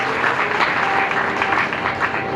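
Steady, dense audience applause at a Shrimad Bhagavat katha gathering in Rishikesh, a loud continuous wash of many hands clapping throughout.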